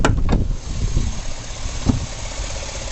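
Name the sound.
Chevrolet Avalanche engine idling under the hood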